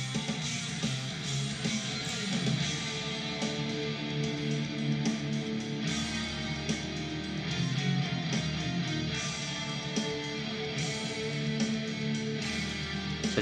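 Electric guitar lead in drop D tuning, the harmony moving from D up to A, played as a steady, dense, distorted passage at moderate volume without any voices over it.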